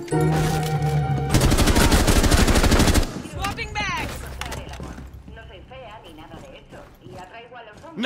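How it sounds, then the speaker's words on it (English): Gunfire rattles in the Rainbow Six Siege video game, a loud, dense burst of shots over the first three seconds with game sounds and talk continuing faintly afterward. "Nice shooting!"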